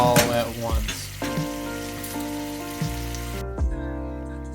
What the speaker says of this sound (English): Let that cook down, mix it pretty frequently to make sure you're not getting any burnt bits